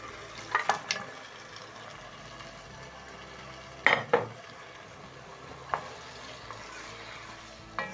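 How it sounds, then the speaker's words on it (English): Beef cooking in a pan with tomatoes and spices, a low steady sizzle running throughout while a utensil stirs and scrapes in a few sharp bursts, close and fairly quiet. "Cook your meat for around 2 minutes so that it can soak in the delicious spices and flavors from our tomatoes"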